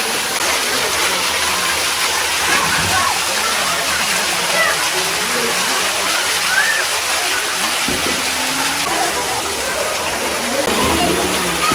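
Water pours steadily from the mouth of a Nandi statue into the temple pond at Yaganti temple, a continuous close gushing splash that holds at an even level throughout.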